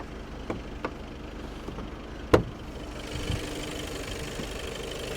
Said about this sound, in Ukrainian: Зараз нахилююсь для того, щоб мікрофоном ви змогли почути, як працює мотор